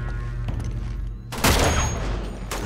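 Gunfire in the video game Uncharted 2: Among Thieves, a burst of sharp, loud shots cracking in quick succession after a brief quieter lull, with no speech.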